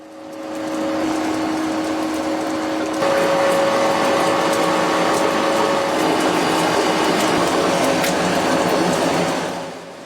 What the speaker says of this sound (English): Factories use precision extrusion machines to maintain exact tube diameters.